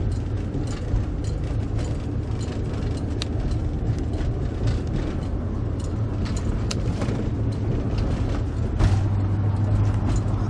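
Car driving down a street, recorded from inside by a rearview-mirror dash cam: a steady low road rumble and engine hum with small rattles and clicks, continuous and moderately loud, with no talking.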